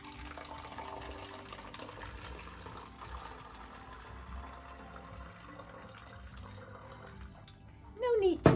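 After a long quiet stretch, water is poured into an empty bottle near the end, a short, loud gurgling burst with a rising pitch as the bottle fills.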